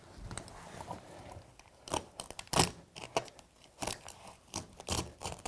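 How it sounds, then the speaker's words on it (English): A hooked blade slices through carpet in short, quiet bursts of scraping and tearing, with sharper rasps between softer pauses. "I'm gonna use a hooked blade to try and cut this carpet right down that line"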